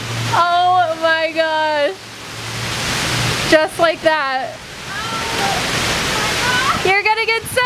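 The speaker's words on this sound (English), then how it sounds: "It's pouring." Steady, dense broadband hiss of heavy pouring rain in Oklahoma fills the clip, with excited voices talking loudly over it at the start and end.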